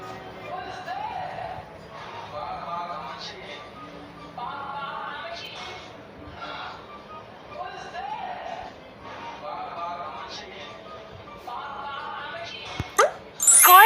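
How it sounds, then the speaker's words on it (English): A dog barks repeatedly in a children's animal-learning cartoon, with short yelps recurring in a loose rhythm over bright background music and occasional voices, ending with a sudden louder burst. "Dog."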